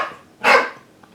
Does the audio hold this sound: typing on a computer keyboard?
no